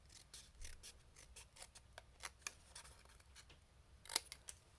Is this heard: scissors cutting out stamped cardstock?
yes